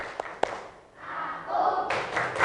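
A school class chants in a classroom: two sharp claps come first, then a loud burst of children's voices shouting together.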